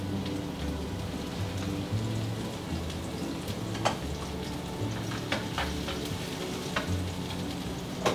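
Garlic and shallots sizzle steadily in a hot pan while shrimp scampi is cooked, a dense, constant frying hiss with scattered crisp pops throughout.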